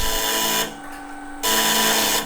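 Alarm buzzer on a UAX13 Strowger electromechanical telephone exchange, a loud, steady harsh buzz that sounds in two bursts separated by a brief gap, set off by the stepping switch.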